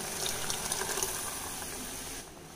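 Water poured into a pan of simmering curry with ground coconut paste gives a steady, close hiss and sizzle that eases off near the end.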